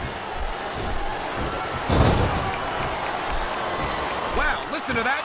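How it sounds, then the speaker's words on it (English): Arena crowd noise from the WWE SmackDown vs Raw 2007 video game during a John Cena versus Finlay match, a steady roar with a swell of chanting and cheering under continuous commentary. "listen to that chant, Taz"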